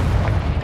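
A Confringo explosive spell goes off in Hogwarts Legacy, a short, loud, low boom with a rumbling body and no sharp crack, filling the whole brief moment.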